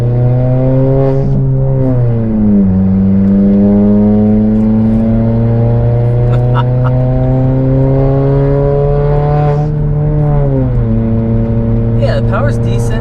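A 2018 Honda Accord Sport with a 192-horsepower engine cruising on the highway, its droning exhaust note loud and steady, rising and falling in pitch with throttle changes, continuous and close throughout.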